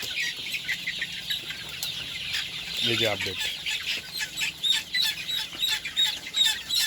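Sonali chickens cluck in a poultry shed that holds about 2,250 birds. The clucks are close and come in repeated bursts, with a few chirps mixed in, and someone speaks briefly over them.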